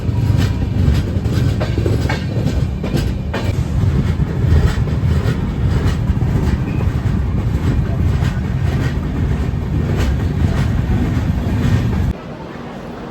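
Howrah Lal Kuan Weekly Express, train 12353, rolling steadily on rails with a dense, continuous low rumble and faint clickety-clack, loud and close as if heard from inside a coach, dropping to a quieter hum in the final second.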